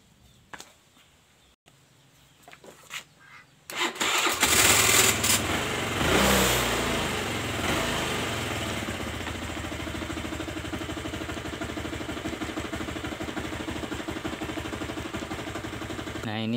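A Honda Vario scooter engine starts after a few quiet knocks and then idles steadily nearby, a continuous even hum with a fine rapid pulse following a louder surge at startup.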